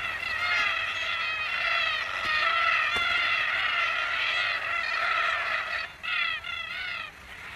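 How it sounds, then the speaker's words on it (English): Red-tailed black cockatoos call in a peanut field where hay bales lie about, a dense overlapping chorus of harsh, raspy screeches that rings out loudly and almost without a break. "Red-tailed black cockatoos join in the fun."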